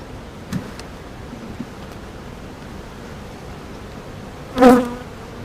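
Honey bees buzz around an open beehive during a hive inspection, a low continuous drone with a few brief closer passes and one loud buzz flying right past near the end.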